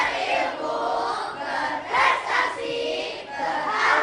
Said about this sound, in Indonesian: Yuk kita dengarkan lagi yel-yel dari SDIT Ahmad Dahlan Kota Jambi.